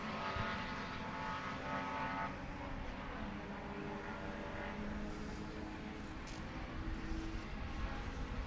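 Race cars run at Sebring during a clean stretch of racing, heard as a distant engine drone with a rising and falling whine, steady and moderately faint, with no voices over it.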